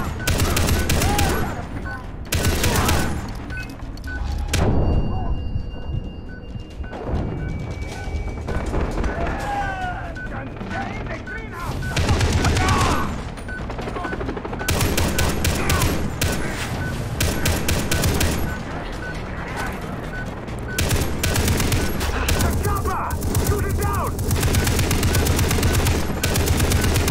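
Heavy turret machine-gun fire in the video game Far Cry 3 roars in long sustained bursts, loud and close, broken by short pauses, with a voice talking over parts of it.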